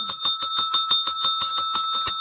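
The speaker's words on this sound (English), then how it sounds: "I got my bell." A small bicycle-style bell is struck rapidly about a dozen times in an even, fast rhythm, each bright metallic ding ringing close and loud with no voices over it.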